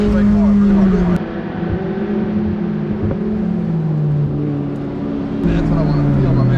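A McLaren 600LT Spider convertible supercar accelerates hard on a track, its loud steady engine drone rising and falling in pitch through gear changes, with a person talking over it.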